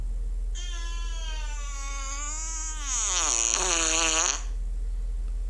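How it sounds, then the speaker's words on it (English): A bombardier-style fart from a fart app plays alone, one long, loud, tonal blast of about four seconds that slides downward in pitch and turns rougher and buzzier near the end. "you get the bombardier fart."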